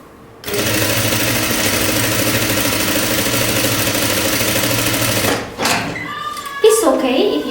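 Sewing machine stitching the shoulder seams of a jumpsuit, one continuous loud run of about five seconds close up, then stopping as a voice begins speaking.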